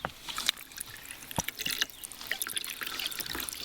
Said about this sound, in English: water over ice.